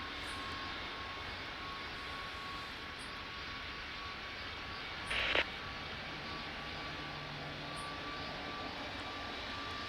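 An American airliner jet takes off from runway 04 at Tokyo in the Tower Simulator 3 game, a steady broad engine roar held at even loudness, with a brief click midway.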